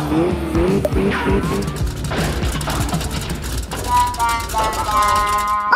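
Cartoon race cars zoom and squeal as they race, with engine whines and tire squeals rising and falling under excited character voices speaking throughout.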